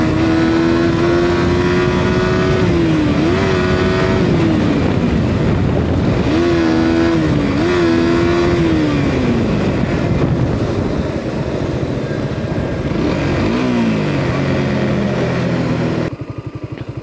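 A troubled Suzuki GSX-R sport motorcycle engine revs loudly and close, rising and falling in uneven surges with stumbles and dips before cutting out near the end.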